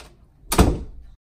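A door swings shut with a single loud thud and a short rattling decay, heard alone in a quiet room.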